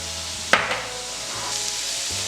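Bukharian plov sizzles in a pan while it is stirred, giving a soft continuous frying hiss with one sharp utensil knock against the pan and a few fainter scrapes.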